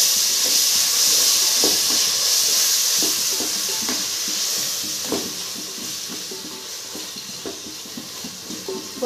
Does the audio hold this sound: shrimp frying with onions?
yes